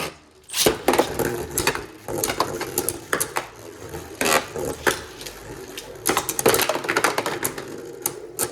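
Beyblade Burst spinning tops, including a Prominence Phoenix, clash in a plastic stadium, making rapid, irregular clicks and rattling knocks up close, with a few sharper hits scattered through and no voices.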